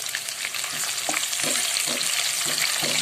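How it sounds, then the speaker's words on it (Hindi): Small onions fry in oil for a fish salan, giving a steady, close, broadband sizzle with soft stirring taps scattered through, and no one talking. "अब ये हमने थोड़ा सा जिस सबसे छोटे साइज का प्याज है हमने ये लिया है और हम इसको फ्राई कर रहे हैं"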